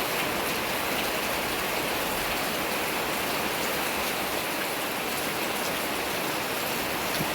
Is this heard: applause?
no